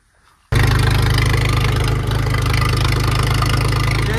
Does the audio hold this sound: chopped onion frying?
no